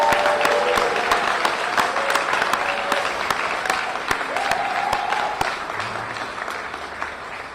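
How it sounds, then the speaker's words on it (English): Audience applause at an outdoor groundbreaking ceremony for an early childhood academy school project, a sustained crowd clapping that fills the whole stretch and slowly thins toward the end. "Please give a big round of applause to them."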